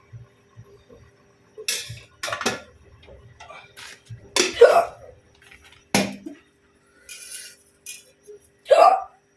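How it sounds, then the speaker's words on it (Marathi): Several sharp, close hiccups at irregular intervals, separated by quiet pauses. "उचकी लागते पाणी पिण्याला."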